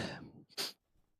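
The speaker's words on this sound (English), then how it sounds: "I'm sneezy." A close, breathy sneeze erupts after a moment of rustling, then trails off into quiet breathing.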